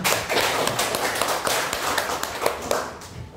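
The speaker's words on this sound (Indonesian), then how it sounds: "Kita kasih tepuk tangan dulu untuk Pak Nyoman" An audience claps for Pak Nyoman at a school positive-culture event. Dense, lively applause from many hands runs steadily throughout, close and fairly loud, with some sharper individual claps standing out.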